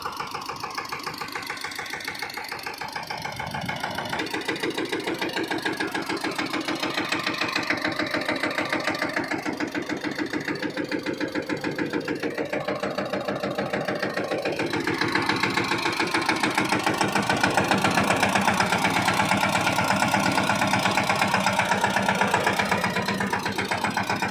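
A medium tractor engine runs steadily throughout with a rapid mechanical chugging in a farm field, growing slightly louder partway through, no voices.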